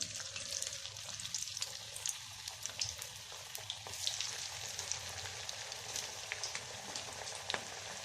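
Onion fritters (ulli vada) fry in hot oil as a faint, steady sizzle crackles with scattered pops over several seconds, with no talking.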